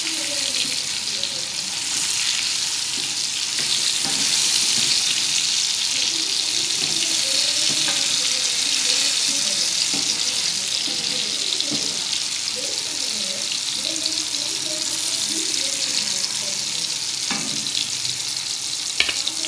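Fish fries in a pan over a low gas flame, giving a continuous close hiss and sizzle with faint bubbling crackles that holds steady throughout.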